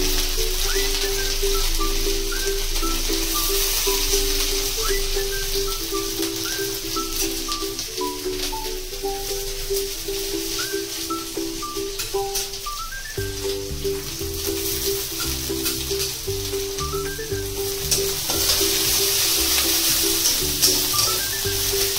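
Crushed ginger, garlic and chopped onion frying in oil, a steady crackling sizzle running throughout under a repeating melodic music track.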